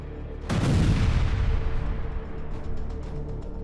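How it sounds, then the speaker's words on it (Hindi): A missile strike hits a residential building in Gaza: a sudden heavy blast erupts, loud and close, then rolls into a long rumbling roar that slowly fades, with scattered debris and crackle toward the end. "एक इमारत पर मिसाइल अटैक का लाइव वीडियो आया है"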